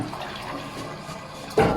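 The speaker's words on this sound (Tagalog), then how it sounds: "yan nag-flush na siya." A ship's vacuum toilet flushes as its button opens the valve and lifting membrane, giving a sudden loud rushing suck after a low steady hum of background machinery.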